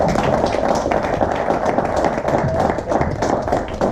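Audience at a local elections debate in Brussels applauding the candidates, a dense, continuous wash of clapping from a crowd, loud and steady with faint murmuring voices mixed in.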